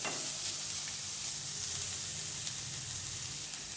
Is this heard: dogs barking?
no